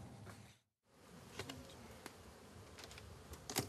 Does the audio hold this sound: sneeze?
no